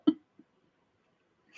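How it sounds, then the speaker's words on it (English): A single hiccup, close and fairly loud, followed by a faint second catch, with quiet in between and a breathy sound at the end. "You get bad hiccups after shisha."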